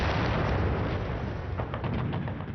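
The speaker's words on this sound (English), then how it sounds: "They were supported by 2 World War I monitors with huge 15-inch guns." Heavy 15-inch naval guns aboard World War I monitors fire in a continuous rumbling barrage, deep booms rolling together with a few sharper reports near the end.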